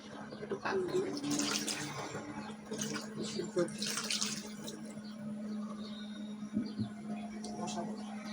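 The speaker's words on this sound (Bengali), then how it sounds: "একটু পানি দিয়ে" Water runs from a tap and is poured into a cooking pot for boiling, a continuous splashing wash with a low hum underneath and a few louder gushes.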